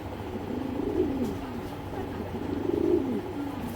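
Racing pigeons from a single flock coo in soft, low, rolling phrases, two distinct bursts close by, under light background noise.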